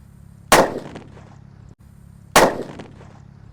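Two Happy Flower disco firecrackers go off one after another, each a sharp, loud bang with a short decaying tail, about two seconds apart, over a low background hum.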